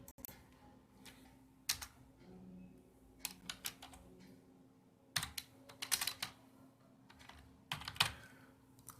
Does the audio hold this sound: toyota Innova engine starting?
no